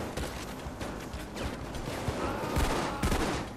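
Sniper and other gunfire rattles in Payday 2 during a loud heist, dense bursts of shots overlapping continuously at close range and high volume.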